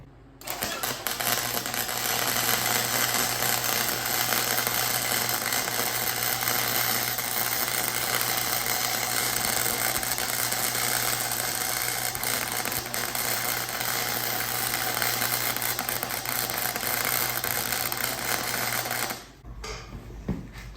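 A YESWELDER 135 running flux-core MIG lays a weld with a loud, steady crackling buzz that holds for about nineteen seconds before cutting off abruptly.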